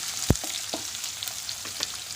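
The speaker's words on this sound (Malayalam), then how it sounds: "നല്ലതുപോലെ ഒന്ന് ഇളക്കി കൊടുക്കാം." Sliced onion fries and sizzles in a pan while a spoon stirs it, giving a steady crackle broken by a sharp scrape or knock and a few lighter taps.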